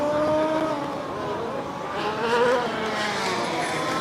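Spec 5 race cars circling a dirt-style oval in an A main event, engines droning steadily from a distance with a faint rising whine as cars pass, under a thin layer of crowd noise.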